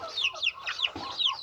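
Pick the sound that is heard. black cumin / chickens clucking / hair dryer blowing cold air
chickens clucking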